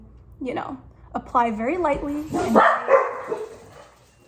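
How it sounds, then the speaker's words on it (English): Several dogs bark and yip in bursts indoors, with whiny, rising barks mixed in, while someone talks over them. "excuse my dogs because they're barking like animals because they're animals."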